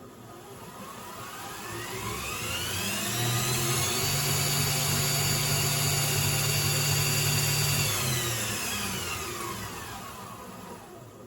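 A mini CNC mill's spindle motor spins up gradually from low RPM, a close whine rising steadily in pitch and loudness, holding at a high steady tone, then easing back down, with no talk.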